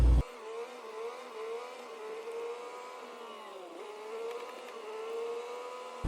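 A truck hums steadily at low speed while driving around an asphalt refinery lot, its engine tone rising and falling gently and staying close throughout.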